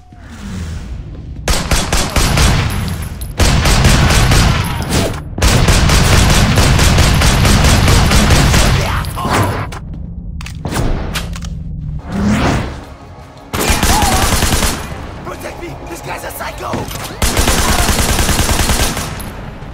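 Gunfight in the video game Sleeping Dogs, with loud bursts of rapid gunfire and automatic fusillades broken by short pauses, close and dominant throughout.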